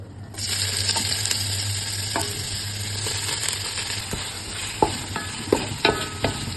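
Onions, green chillies and whole spices sautéing in hot oil for chicken dum biryani made with seeraga samba rice: loud continuous sizzle throughout, with scraping spatula strokes and clinks against the pan growing sharper toward the end.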